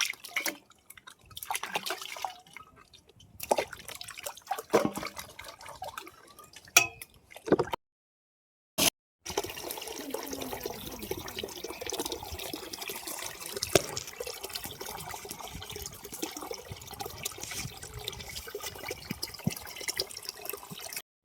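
Dishes washed by hand with water: intermittent trickling, dripping and splashing with occasional clinks of utensils, fairly quiet and close, with brief pauses before a steadier running-water stretch.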